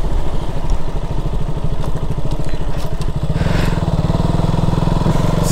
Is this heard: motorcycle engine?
yes